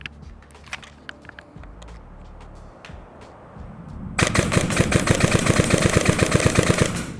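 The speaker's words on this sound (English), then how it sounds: "we're gonna give it a couple shots on semi-auto and see how it does with all of our upgrades" Airsoft SCAR rifle with upgrades firing on semi-auto outdoors at a testing area, a few sharp single shots, then a dense burst of rapid cracks, loud and near, with no talk.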